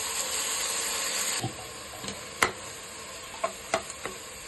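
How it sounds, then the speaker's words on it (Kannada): Spice paste for chicken biryani frying in a pan: a bright sizzle that fades after a second, followed by scattered light spoon taps and clicks. "ಇದನ್ನ ಚೆನ್ನಾಗಿ ಫ್ರೈ ಮಾಡಿ"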